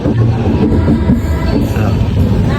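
A passenger train bound for Haridwar running along the tracks, heard from inside as a loud, steady low rumble with faint clatter and background voices.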